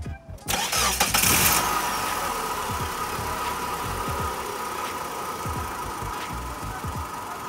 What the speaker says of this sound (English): let me go ahead and start the car for y'all real quick.